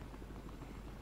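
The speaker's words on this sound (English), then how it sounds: "I'm in the scout helicopter, or the executive helicopter," Scout helicopter, also called the executive helicopter, in the Battlefield Hardline beta: a steady droning rotor and engine roar, held at an even loudness throughout, with no talk.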